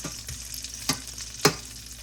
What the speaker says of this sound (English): So you cook them nice and slow and let them cook all the way through.